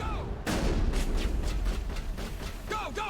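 Rapid, repeated gunfire from a firefight in the video game Mass Effect: a loud burst of shots with sharp broadband cracks, steady over the clip, with faint voices in the background.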